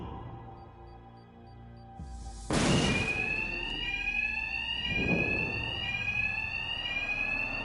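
A fire-style alarm in the Batman game Arkham Knight rings loud and steady, a piercing electronic tone that surges in after a sharp burst and keeps sounding without pause.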